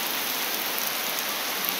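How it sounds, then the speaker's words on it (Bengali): Heavy rain pours at night in a dense, steady wash of drops on surfaces, even and unbroken with no voices. "প্রচণ্ড বৃষ্টি হচ্ছে, তবে বৃষ্টিটা থেমে থেমে হচ্ছে।"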